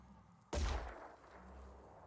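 A single sharp gunshot from a weapon in the Phoenix Point tactical video game, loud and sudden with a heavy low boom that decays into a lingering rumble.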